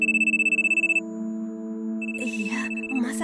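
A telephone rings in an anime scene, a steady pulsed electronic ring for about a second, then a single sustained tone under a tonal music bed before voices break in and talk.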